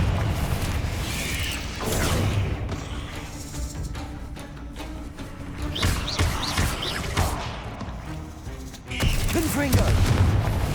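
Confringo fire spells burst repeatedly in the Hogwarts Legacy video game, with several booming blasts spread across the stretch amid constant battle noise and game effects.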